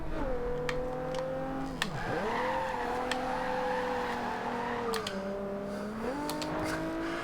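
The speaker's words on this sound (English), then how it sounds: "I had to crank the e-brake there." A 2010 Nissan 370Z in Forza Horizon 2 slides on the e-brake, its engine droning steadily while tires squeal through two dipping, sliding pitch swoops; loud and continuous, with no talking.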